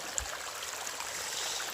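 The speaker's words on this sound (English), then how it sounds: "A little river crossing here. Or creek crossing, I guess." A small creek flows at a rock-hopping crossing on the Florida Trail near Sampson City, a soft steady wash of running water, faint and continuous, with no voices.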